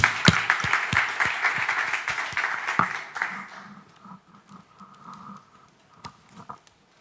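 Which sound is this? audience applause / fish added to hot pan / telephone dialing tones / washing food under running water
audience applause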